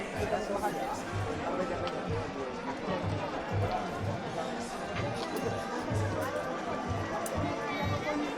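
Busy Tokyo street crowd chatter, a dense steady babble of many voices with footsteps and traffic rumble, heard continuously at moderate level from within the throng.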